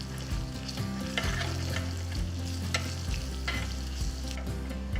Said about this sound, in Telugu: కొన్ని కరివేపాకులు వేసి వేయించాలి